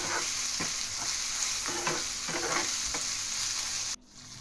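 Brinjal fry sizzling in oil in a pan while a spoon stirs it in steady scraping strokes, close and fairly loud, ending with a sudden drop to quieter sizzle near the end.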